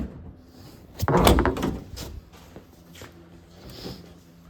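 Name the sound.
fiberglass door opening on a Fox body Mustang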